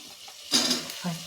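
Carrot, beans and potato pieces are added to spiced masala frying in a pan for vegetable biryani, giving a brief clatter and rising sizzle with a couple of stirring scrapes, close and fairly quiet.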